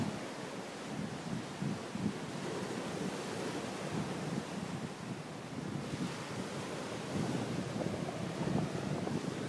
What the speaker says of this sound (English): the waves are coming in at twice the rate